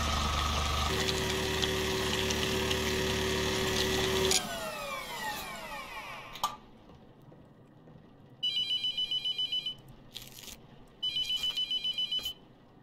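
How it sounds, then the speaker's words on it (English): A phone rings in the horror video game The Mortuary Assistant, with two bursts of rapid electronic trilling near the end, after engine-like droning and a quiet stretch. "another phone call, huh?"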